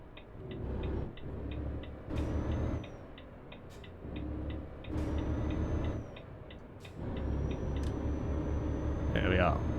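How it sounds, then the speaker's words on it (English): A turn indicator in a truck in Euro Truck Simulator 2 ticks in a regular, evenly spaced rhythm throughout, set against a low engine rumble and passing road noise, with someone talking over it. "I'd better start indicating as I'm driving around here"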